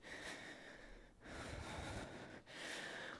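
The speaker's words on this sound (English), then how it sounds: "me starting to breathe heavy" Heavy breathing from someone doing a jump rope workout: three long, loud, close inhale and exhale cycles, breathy and rough, with brief pauses between them and no speech.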